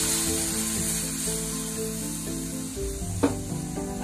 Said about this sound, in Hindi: फ्रेंड्स, अब मैं इसमें अपना मिल्क ऐड करूंगा